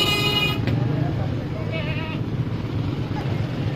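Goats at a livestock market for meat animals, with scattered bleats amid crowd noise and steady talk throughout.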